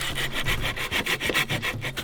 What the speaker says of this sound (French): C'est 1h30 que je suis en train de scier.